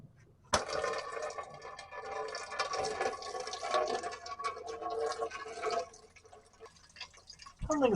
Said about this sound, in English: Now I got to drain it out.